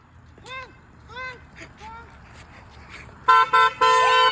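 Passing cars on a road honk their horns, with several loud blasts in quick succession toward the end after earlier shouted vocal calls and faint traffic rumble; voices shout in the clip.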